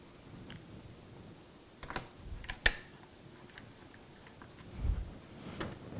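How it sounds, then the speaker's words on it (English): Plastic clicks and taps as an HP 15-r015dx laptop keyboard is fitted back into place, a few scattered close snaps and knocks with quiet pauses between them. "now the keyboard can go back on."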